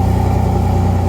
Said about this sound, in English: Turn the key, this thing starts every time.